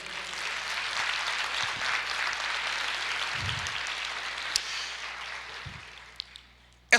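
Applause from a church congregation, a broad wash of clapping that stays steady, then thins and fades toward the end, with a few isolated knocks and thumps.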